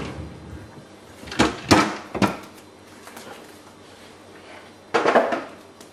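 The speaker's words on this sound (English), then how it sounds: "first what we're going to do is remove the lower drawers." A few wooden knocks and scrapes as the lower drawers of a jammed chest are pulled out, two close together then another, with a louder slide near the end; no talking.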